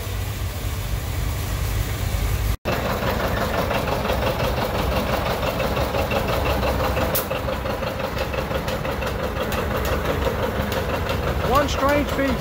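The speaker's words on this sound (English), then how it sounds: "Last day of the show, we got another tractor parade" Vintage tractors roll past in a parade at the Florida Flywheelers show, their engines chugging and idling in a steady, continuous drone at close to mid range, with crowd murmur and a brief dropout early on.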